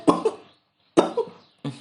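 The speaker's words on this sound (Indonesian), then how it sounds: "Batuk." A man coughs in a film scene, two short harsh bursts, a pause, then another pair and the start of a third, close and dry with near silence between them.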